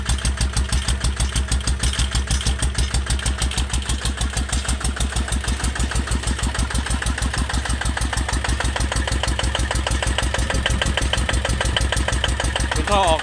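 A walk-behind tractor engine fitted with a new exhaust pipe chugs steadily at idle, its deep, throaty exhaust pulsing in a fast even rhythm, close and loud throughout.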